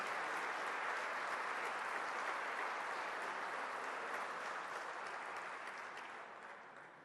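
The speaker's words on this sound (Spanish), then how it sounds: "queremos agradecer y partir con un fuerte aplauso" Audience at a labor union event breaks into sustained, dense applause, an even wash of many clapping hands that holds steady and then fades toward the end.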